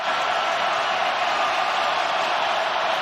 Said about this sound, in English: Crowd doesn't like that.